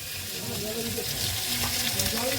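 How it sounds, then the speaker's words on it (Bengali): Chicken pieces being added to hot oil with cooked-down spice paste for a chicken ghugni, a dense steady sizzle and crackle close by with faint stirring, no talking. "আর একটু তেল দিয়ে দিচ্ছে আর এই যে মশলা কষানো হয়ে গেছে মা আস্তে আস্তে চিকেনগুলো দিয়ে দিচ্ছে"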